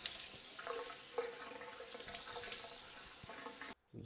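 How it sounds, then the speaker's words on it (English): Water splashes at a bathroom sink as hands bring it to the face, a few soft, uneven splashes over a quiet running tap, fairly faint and ending abruptly. "Just get a little water on my face."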